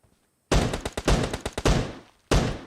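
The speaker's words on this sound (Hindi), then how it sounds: "उसने यहाँ से फायरिंग स्टार्ट कर दी" Loud bursts of automatic gunfire in PUBG Mobile, a rapid string of close shots after a brief silence, then a single sharp shot a moment later.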